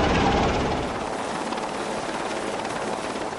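A helicopter drones in a steady, dense wash of rotor and engine noise during a sea-survival rescue evacuation, loud at first and easing slightly while holding constant.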